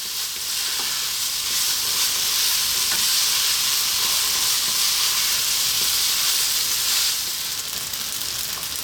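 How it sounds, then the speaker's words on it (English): Rice for crab fried rice, made with canned crab, sizzles and fries steadily in a hot pan while being stirred, a continuous close hiss with no talking. "It's quite important to actually cook the rice and fry it."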